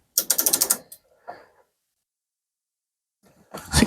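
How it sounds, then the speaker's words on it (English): An inch-pound torque wrench tightening a screw on solar panel switch gear gives a quick run of sharp ratcheting clicks, then one short, fainter burst. Another louder run of clicks follows after a pause. "put our screw in here, hold this, and start tightening this"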